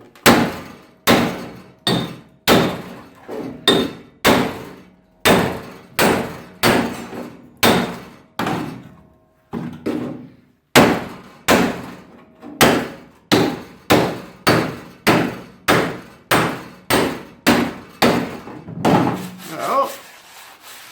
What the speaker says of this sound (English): I'm going to have to hammer and dolly that back up though, just to level that floor out.